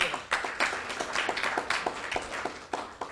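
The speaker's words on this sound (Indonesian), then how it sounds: "Kita beri tepuk tangan." Audience applause at an Indonesian chapter meeting, a steady patter of many hands clapping for about three seconds, fairly close and even, with no talk over it.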